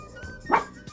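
A dog gives one sharp bark with a couple of faint yips around it, close by and brief, indoors in a home.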